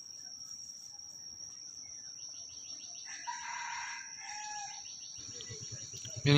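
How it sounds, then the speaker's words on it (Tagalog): A gamefowl rooster crows in the distance, a faint drawn-out call sounding over a steady chorus of crickets and insects, followed by a short closer burst at the end. "yun yung tilaok ng ating target ngayon, nasa baba"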